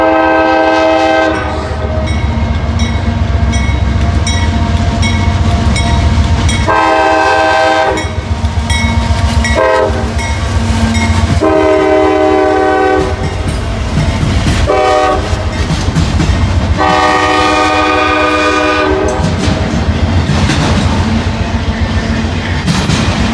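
A southbound freight train passes at close range in Hamilton, sounding its horn in several long loud blasts over steady rumbling wheels and clattering railcars.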